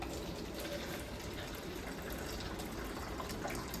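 Warm water pours steadily into a container on a scale, a continuous soft rushing splash at low level with no pauses and no talking.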